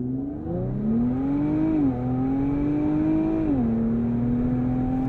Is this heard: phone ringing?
no